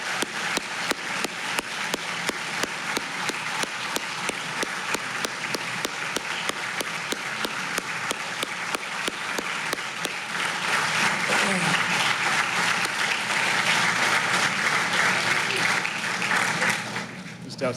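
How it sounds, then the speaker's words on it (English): Applause for a young patient and his mother at an Ochsner Children's Hospital donation event. Rhythmic clapping from a crowd is heard at first, then it swells into a full, dense ovation that holds for several seconds before fading. "a big round of applause for your bravery and for being here"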